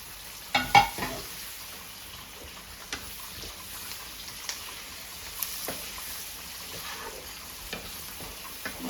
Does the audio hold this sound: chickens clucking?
no